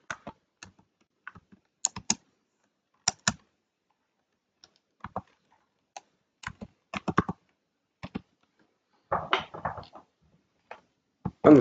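Sparse, close keystrokes on a computer keyboard come in short bursts separated by quiet gaps, ending with a quicker cluster of clicks. No one speaks.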